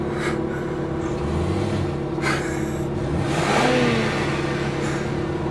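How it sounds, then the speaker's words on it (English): A nearby car revs its engine in traffic beside an exotic car on the road, a rising and falling mid-pitched roar that swells and fades over a steady background of road and engine rumble. "Revving his engine."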